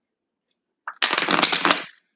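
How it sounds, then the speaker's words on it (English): A brisk riffle of tarot cards shuffling for about a second, crisp and close, preceded by a couple of small taps. "I guess for the moment I'll shuffle my cards."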